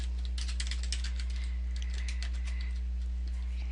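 Quick, uneven taps on a computer keyboard as a password is entered, close and fairly loud over a steady low electrical hum, with no voices.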